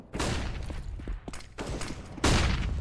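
Gunfire in a competitive video game match, rapid bursts of shots and impacts at a steady volume, with a heavier burst near the end; no speech over it.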